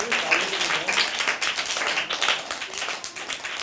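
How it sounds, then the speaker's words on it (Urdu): Studio audience on a Pakistani television talk show clapping, a brisk, dense burst of applause filling the whole moment, fairly close. "اس کے لیے تالیاں تو ہونی چاہیے یار"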